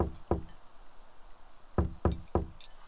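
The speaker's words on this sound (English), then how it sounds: "stop knocking on the door" Knocking on a door in the Desperate Housewives video game: two firm knocks, a pause, then three more evenly spaced raps, close and clear over a faint steady hum.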